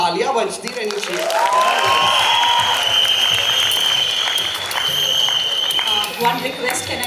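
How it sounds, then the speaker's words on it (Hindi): A college crowd at a song launch event claps and cheers loudly and continuously, with music and shouted voices mixed in over the applause. "तालियां बजती रहनी चाहिए।"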